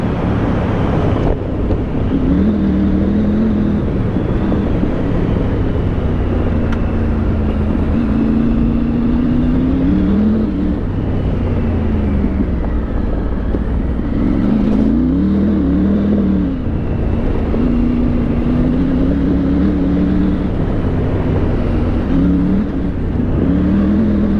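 A Triumph Tiger 900 Rally Pro adventure motorcycle rides off road, its engine droning steadily and rising and falling with the throttle under heavy wind rush on the microphone.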